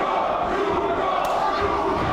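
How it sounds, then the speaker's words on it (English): Wrestling fans cheer during a tag team battle royal event, a dense, steady roar of crowd noise filling the space with no break, loud and sustained. "These are the fans cheering for Mirko for the Yugo."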